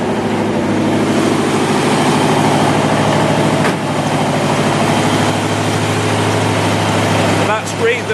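A 1966 Corvette Stingray roadster engine idles steadily on choke after valve clearances were reset, a loud continuous low rumble running close-up for the whole stretch, with a brief dip near the end.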